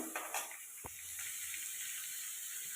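Onions frying in a pan for paneer butter masala, a steady soft sizzle with one brief clink of a utensil near the start.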